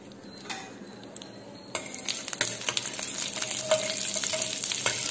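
Mustard seeds tempering in hot sesame oil for a spicy roasted-gram chutney: a quiet sizzle that swells after a couple of seconds into a denser hiss dotted with sharp crackling pops.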